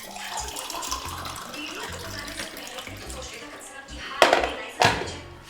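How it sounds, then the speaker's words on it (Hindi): Water runs from a tap with a steady hiss and splashing, close by, with a few louder clanks near the end and someone talking softly over it. "अपना पानी डाल रही"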